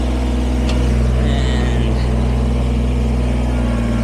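Kubota BX23S sub-compact tractor engine running at a steady, loud drone while back blading dirt along a concrete edge, with a continuous low hum and no talk.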